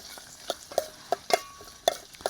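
Onion and garlic sauté in a pan at a forest campsite while a utensil stirs them, making intermittent scraping clinks against the pan over a faint sizzle. It is close by, with no talking.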